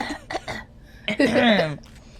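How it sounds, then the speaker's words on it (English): A person clears their throat close up: a few short rough bursts, then one longer, raspy rumbling clearing, with no words. "let me clear my throat"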